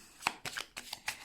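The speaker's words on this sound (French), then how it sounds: "j'ai fait tomber les cartes" Tarot cards are dropped and gathered up, making four quick papery slaps and shuffles close by, brief and crisp against a quiet background.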